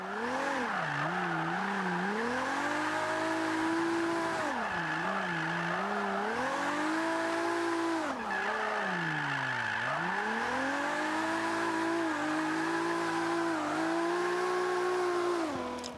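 Toyota Supra with a 2JZ engine in Forza 5, set up as a drift build, revving hard and continuously, its pitch rising and falling through repeated throttle swings and gear changes with tire squeal throughout, loud and close with no talking.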